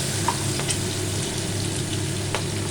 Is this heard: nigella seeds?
yes